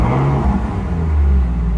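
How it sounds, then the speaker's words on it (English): A Ferrari 458 engine fires up, a loud, close, dense rumble with a deep low throb that holds steady and swells slightly toward the end. "push the brake, hold the brake and push engine start."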